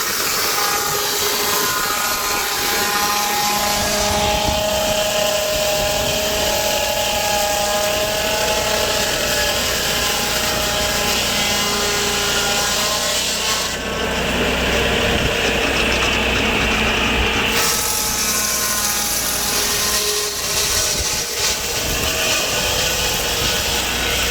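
A portable sawmill cuts a log, a loud engine drone running continuously for the whole stretch with a rising, rasping blade noise in the middle as the cut bites into the wood.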